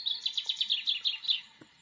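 Recorded bird chirping played back from a cheap MP3 playback board inside a decorative bird box, a quick series of about ten bright, close, electronic-sounding tweets, then a click and silence.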